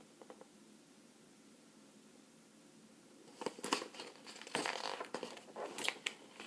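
Gift wrapping paper being unwrapped: a quiet lull, then a burst of close crinkling, rustling and tearing during the second half.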